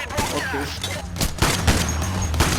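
Rapid, repeated gunfire in Payday 2 crackles in dense bursts close by, with voices mixed in among the shots.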